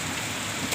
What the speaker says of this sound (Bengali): মারাত্মক মারাত্মক বৃষ্টি হচ্ছে